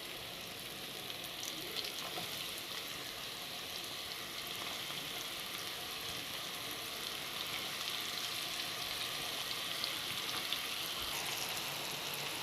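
Thinly sliced onion frying in a pan for Egyptian koshari, a steady dense sizzle with soft crackle that holds level and close throughout, with no talking.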